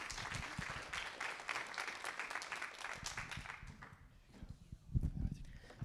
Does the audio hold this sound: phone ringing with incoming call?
no